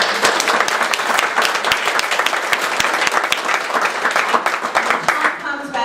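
A church congregation applauds in the sanctuary, many sharp claps merging into a lively, sustained round of applause. Voices can be heard faintly underneath.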